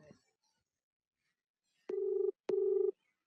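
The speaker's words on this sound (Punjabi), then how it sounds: "ਇਹ ਫੋਨ ਵੱਜ ਰਿਹਾ ਹੁਣ ਰਿੰਗ ਵੱਜ ਰਹੀ ਆ" On an outgoing call to a government officer, two short ringback tones sound from the phone after near silence, clear but fairly quiet.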